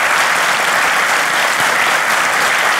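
Studio audience applause on a Turkish relationship-test TV show, loud and dense, a continuous wash of many hands clapping close up without pause.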